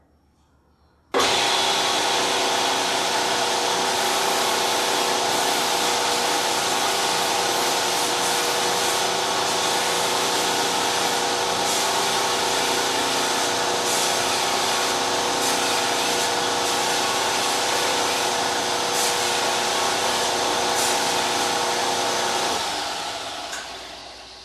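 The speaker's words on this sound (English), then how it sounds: "This is a 320 grit J-Flex belt. And I have the platen out so it'll just flex around all these curves here." A belt sander with a flexible 320-grit J-Flex belt, platen removed, grinds against a curved knife handle in one continuous, loud steady whir that runs unbroken for over twenty seconds before tapering off.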